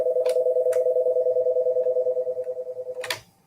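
Telephone keypad tones while a phone is put on mute, a continuous beeping tone pulsing rapidly for about three seconds with a few clicks of key presses, loud and close, then cutting off abruptly.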